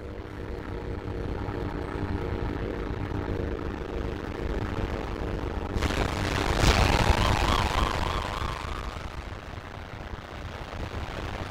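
A plane engine in the Wii Sports Resort video game drones steadily, then swells into a louder rushing roar midway before settling back to its continuous hum.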